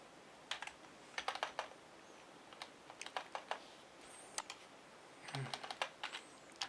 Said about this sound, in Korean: 그러면은 여기에서 이제 그 커맨드를 치는 겁니다